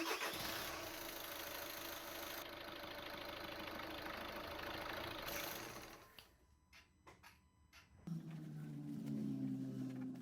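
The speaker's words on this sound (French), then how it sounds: "il faut juste faire tourner le moteur une quinzaine de secondes" A Volkswagen Golf 6 engine runs steadily at idle during an oil change, a loud continuous mechanical hum through most of the stretch before it cuts out, followed by quieter clicks and a lower hum.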